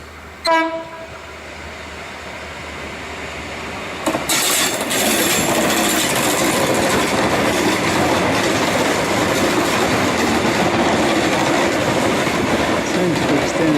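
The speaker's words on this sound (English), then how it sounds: "Down train to Tonsley." A six-car passenger train to Tonsley passing close by on rails, a short horn blast followed by a loud, sustained roar of wheels and carriages that fills the rest of the clip.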